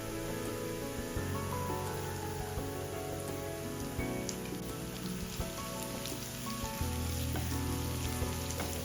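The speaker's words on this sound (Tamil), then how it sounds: "இப்ப இந்த உள்ளியும் வெங்காயமும் நல்லா பொரிஞ்சு வரணும்" Garlic and onion fry in hot oil for a homemade chilli paste, giving a steady, dense sizzle and patter like rain on a surface. The sizzle runs close and unbroken throughout, with no talking.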